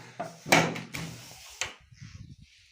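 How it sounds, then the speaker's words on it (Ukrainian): A door in an old house under renovation is opened with several wooden knocks and clunks, a creak and a final thud, followed by faint rustling nearby. "А щоб зайти туди, треба відкрити двері."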